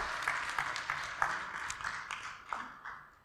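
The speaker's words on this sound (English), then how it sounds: "A round of applause." At a government programme review meeting, an audience gives a faint, thin round of applause for a panel, with scattered distinct claps that gradually thin out.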